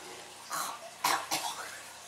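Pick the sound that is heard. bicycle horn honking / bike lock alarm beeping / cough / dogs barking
cough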